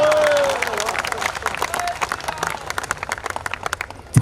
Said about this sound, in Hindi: थकी हुई तालियां हैं कुछ लोगों की